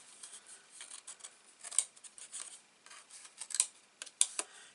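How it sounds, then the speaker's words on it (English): Scissors snip through a page of a vintage baby girl album, a run of quiet, uneven crisp cuts that sharpen into a few louder clipped snaps near the end, close by and alone with no talk. "I'm just going to cut that section away."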